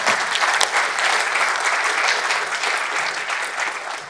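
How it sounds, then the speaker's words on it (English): Conference audience at a closing keynote on threat research gives a round of applause, a continuous, even wash of many hands clapping at moderate loudness, easing slightly as it ends. "We can all give a round of applause."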